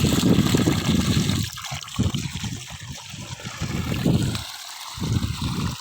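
Water gushing from a borewell on a one-acre farm plot, a loud, close, continuous rushing flow that surges and dips, with no talking.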